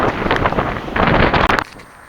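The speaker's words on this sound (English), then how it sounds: "I'm not exaggerating, it's fucking windy out here" Strong gusting wind roars across an outdoor walk where tree branches have come down, a loud continuous buffeting that swells and drops before cutting out abruptly.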